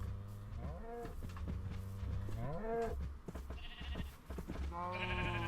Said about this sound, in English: There's another cow up here.